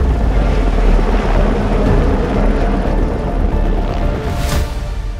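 A loud, continuous helicopter roar nearby, a dense rumbling engine and rotor wash with no break.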